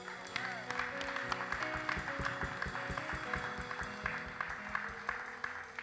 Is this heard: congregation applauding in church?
yes